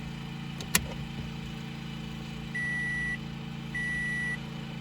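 As the key turns on in a 2016 Toyota Tundra, there is a soft click, then two steady dashboard beeps, each lasting under a second, over a faint constant electrical hum in a quiet cab.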